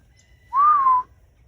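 A single clear whistle calling Longhorn cattle on a farm rises slightly and holds for about half a second against near silence.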